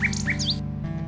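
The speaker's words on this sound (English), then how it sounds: "Do you hear that? That's the nightingale." A nightingale in the King's Quest VI game sings bright, repeated chirps and whistled trills over a low, steady musical backdrop.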